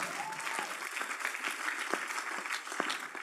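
A church congregation claps hands at a prophetic gathering, a lively run of many overlapping claps with sharper accents standing out, fairly close and alone without speech.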